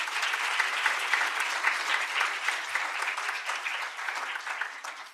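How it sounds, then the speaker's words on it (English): Conference audience applauds student volunteers with sustained, even clapping that continues steadily for several seconds before tapering off at the end. "A big round of applause to all of them."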